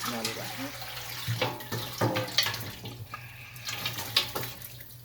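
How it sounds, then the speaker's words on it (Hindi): Water pours and splashes in uneven bursts, with clattering and sloshing as meat is rinsed, over a steady low hum. "इसको मैं साफ पानी डाल के साफ करती हूँ।"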